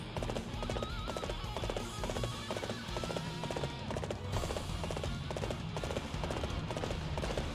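Horse hooves clip-clopping in Dynasty Warriors 8, a steady galloping rhythm under a dense battle din with music and clashing, with occasional whinnies and no talking.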